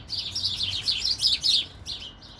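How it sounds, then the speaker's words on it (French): Birds sing in a quick run of bright, chirping phrases close by, continuous and fairly clear over a faint low background hum, with no voices. "Même avec le chant des oiseaux"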